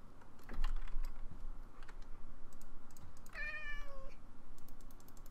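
A single drawn-out meow from a Minecraft cat rises out of steady computer-keyboard typing and clicking, near and clear, lasting under a second.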